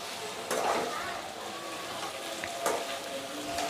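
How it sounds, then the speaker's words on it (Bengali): Fried chicken pieces are turned into a spice masala in a pan, giving a low, soft sizzle with a couple of brief scraping stirs, close and fairly quiet. "তো এখানে যে ভেজে রাখা চিকেনগুলো এর ভেতরে আমি দিয়ে দেব, দিয়ে নাড়াচাড়া করে মিশিয়ে দেব মশলার সাথে"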